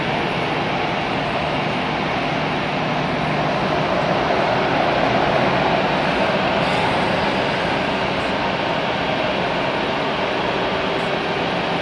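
British Airways airliner at Hamburg Airport, a loud, steady broadband engine roar that holds throughout without a break.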